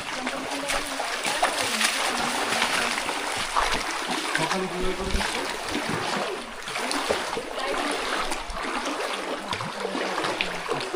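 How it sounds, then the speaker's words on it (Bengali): People wade across a rocky jungle stream in the hills of Andarmanik, with continuous splashing and sloshing of feet through water over a steady trickling current. "সবাই পানি পেরিয়ে আসবে"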